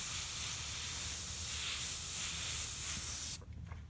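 An airbrush sprays paint onto a shark artwork in a steady, close, continuous hiss that runs unbroken for over three seconds and then cuts off abruptly, leaving near silence.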